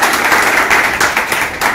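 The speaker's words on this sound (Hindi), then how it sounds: "ताली बजा दीजिए इन लोगों के लिए" Students in a mobile software repair class applauding, loud, dense, continuous clapping from a group close by, filling the whole moment with no speech.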